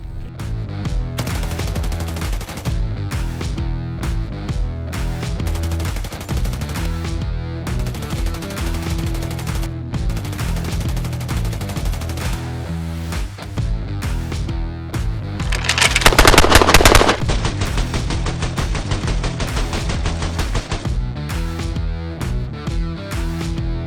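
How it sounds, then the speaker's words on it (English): A Tippmann 9mm Gatling gun firing loud, rapid continuous bursts that run almost the whole time, swelling into an even denser, harsher stretch of fire near the end. "first up is the Tippmann 9mm Gatling gun"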